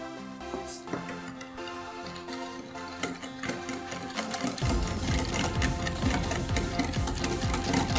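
Cake batter for a yogurt cake is whisked by hand in a bowl, giving a quiet, rapid, even ticking rhythm that grows busier and denser toward the end.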